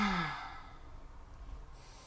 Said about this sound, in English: let's try breathing in through our nose and out through our mouth